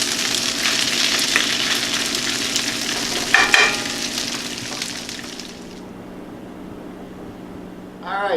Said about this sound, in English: Keep stirring it, moving it around.